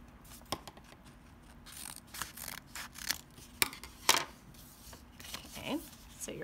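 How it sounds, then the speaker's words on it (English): Scissors snip through a sheet of paper, cutting small triangles off to form a house shape; a series of crisp, irregular close cuts and rustles, with a voice speaking intermittently. "I'm just going to cut these two little triangles off to create the pointy house shape."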